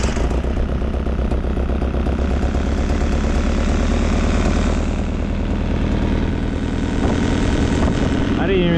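The engine of a 1971 Datsun 510 with a Weber 32/36 carburetor runs at a steady idle, a continuous close rumble with a fairly even, loud level throughout.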